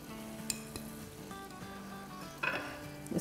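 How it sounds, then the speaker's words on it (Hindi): Minced meat keema fries with spices and tomato as a utensil stirs it, a steady close sizzle with brief clinks of metal against the pan and a louder scraping burst near the end. "और अब कीमे के साथ इस तरह से मिलाते जाएंगे"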